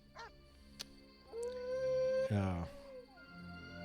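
A dog in The Witcher video game lets out a drawn-out howl with whimpering rises, set against a steady game ambience and music.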